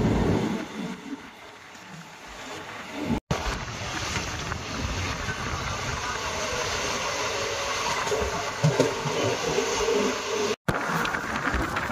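Miraj–Kurduwadi passenger train rolling along near Kodlimb station, a steady rumble and rushing noise throughout with a few short bumps.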